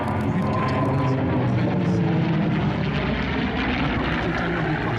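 Steady, loud drone of a WWII F4U Corsair fighter with a powerful radial engine flying overhead at an air show, a continuous broadband engine roar with propeller hum holding constant for the whole stretch.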